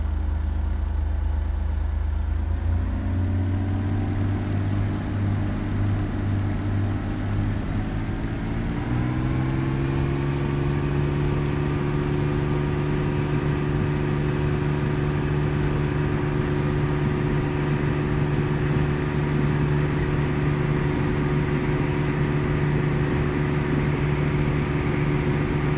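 Aircraft engine in a flight simulator game holds a steady drone through a takeoff run, its tone stepping up in pitch and loudness twice as power rises, then staying constant and fairly loud while the plane climbs.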